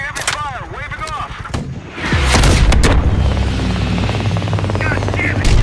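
Heavy gunfire and explosions in a Call of Duty Black Ops Cold War cutscene, loud and sustained, with rapid bursts and booms over a helicopter's roar after an opening stretch of whooshing effects, and voices talking in between.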